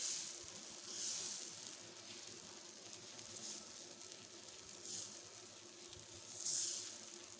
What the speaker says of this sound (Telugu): దోశ పిండి బాగా పొంగింది దోశ వేస్తున్నాను